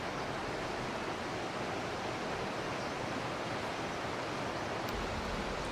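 Fast, swollen monsoon river water rushing at the confluence of two mountain rivers in Uttarakhand, a steady loud broadband roar that stays constant throughout with no voices.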